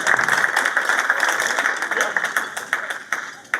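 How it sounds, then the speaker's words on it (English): Gala audience claps and applauds in a dense, steady wash of many hands, with sharper individual claps standing out near the end as the applause carries on throughout. "Would you clap it up one more time for the crew?"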